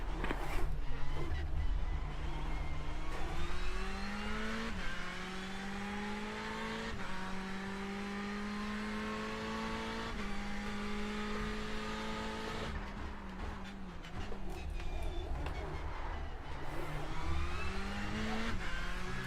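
Ferrari 488 GTE race car engine in the iRacing simulator at Spa at night, loud and close, revving up through repeated gear shifts with rising and falling pitch and occasional downshifts.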